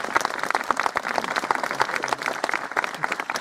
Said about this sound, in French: On peut applaudir ma sœur.